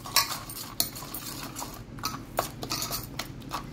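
A spoon or utensil stirs a paneer tikka marinade mixture in a metal bowl, giving close, irregular clinks and scrapes in quick bursts.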